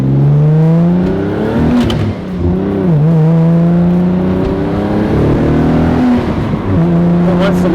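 Nissan 300ZX turbo engine revving on an old fuel system, loud and close, with repeated swells of revs rising and falling between steadier idle stretches across the whole span.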